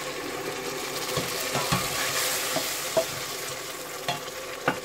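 Crushed tomato hits browned onions in a hot pan while cooking rice with soumbara, giving a steady sizzle broken by scraping stirs and a few sharp utensil knocks near the end.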